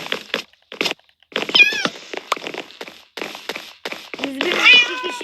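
Minecraft cats meow close and clear, a run of several short mews and one longer wailing call near the end, mixed with quick clicking game sounds and brief bits of talk.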